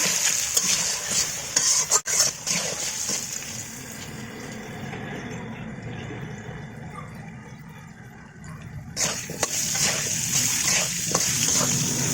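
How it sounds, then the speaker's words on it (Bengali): Potato pieces seasoned with turmeric and chili powder fry in a pan, a steady close sizzle with stirring scrapes, briefly quieting midway before the crackle rises again; no one speaks. "এবার এই আলু খুব সুন্দরভাবে লাল লাল করে ভেজে নেব।"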